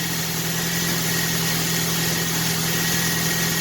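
A 40th Edition Ford Mustang idles steadily in a smooth, even drone with a low hum and no change in pitch, loud and close, with no voices.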